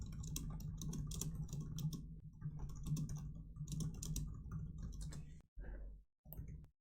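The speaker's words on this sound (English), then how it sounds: "Man, my typing is not good." Rapid typing on a computer keyboard during a streamed Vintage Cube draft of Magic: The Gathering, close and clattering in quick bursts with a low hum beneath, then a few short pauses and final taps.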